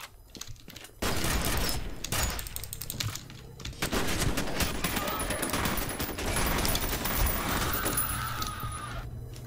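Shotgun blasts and heavy gunfire from the video game F.E.A.R. come in loud, dense bursts, with a few quieter gaps between them and a voice talking over parts of the clip.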